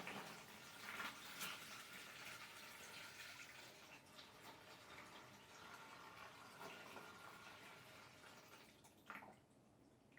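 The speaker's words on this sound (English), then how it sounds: "I need to pour all of the water into the container with the paper." Water from a kettle is poured into a container holding paper for recycling. The continuous trickling splash is faint and steady, with a few brief surges, and it stops near the end.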